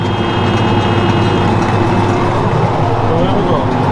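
A Massey Ferguson MF3690 tractor running in second gear while baling, a loud, steady low engine drone close by with no break, under a voice talking.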